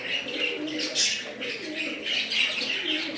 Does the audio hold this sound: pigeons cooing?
yes